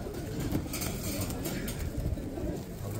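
Soft pigeon cooing murmurs through a noisy, crowded pigeon market in Radom, blended with low background chatter and rustling.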